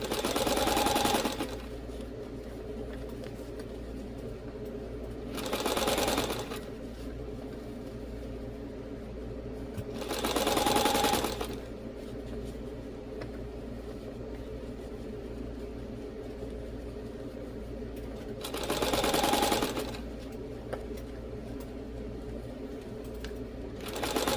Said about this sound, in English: So I am sewing around the scrunchie.